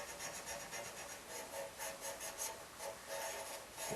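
220 grit sandpaper rubbing a turned pen blank on a lathe gives a faint, continuous scratchy hiss that pulses gently with each pass of the hand.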